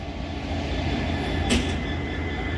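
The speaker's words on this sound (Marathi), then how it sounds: "तर ही ट्रेन चालली आहे पुढे सध्या" Steady rumble of a train moving on at Beed railway station amid a large crowd, with a brief hiss of brakes or air midway, continuous and fairly close.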